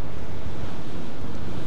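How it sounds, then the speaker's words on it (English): Ocean waves crash against a sea wall beneath a lighthouse, giving a loud, steady, broadband rushing roar mixed with wind buffeting close to the microphone. "the waves that are hitting the wall with the lighthouse"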